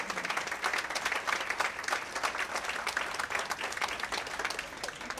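Audience at a family reunion applauding steadily for the reunion committee, a dense, continuous patter of many hands clapping at a fairly even level for the whole stretch.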